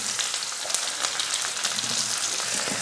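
Onions and chana dal frying together in a pan with dried red chillies and curry leaves, a steady, dense crackling sizzle with scattered pops, close and continuous with no talk.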